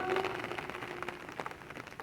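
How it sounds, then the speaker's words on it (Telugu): Heavy rain pouring without letup for days, with a steady broadband hiss and scattered patter close by, no voices. "దగ్గర దగ్గర మూడు రోజుల నుంచి నాన్ స్టాప్గా కురుస్తుంది వర్షం"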